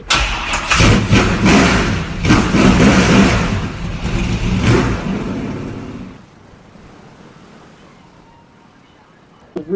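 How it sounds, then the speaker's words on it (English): Snarling V8 engine in the GTA 5 video game, loud revs and roars for several seconds with a voice talking over it, then dropping to a low quiet idle. "It's a snarling V8 that sounds like it's been raised by wolves and fed by nothing but red meat and whiskey."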